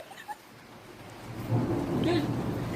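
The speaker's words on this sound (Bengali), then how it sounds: "বিদ্যুৎ চমকাচ্ছে" Thunder rolls during a rainstorm: a low, distant rumble swells up midway and keeps growing over a soft wash of rain, with no talking.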